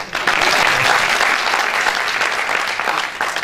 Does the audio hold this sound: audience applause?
yes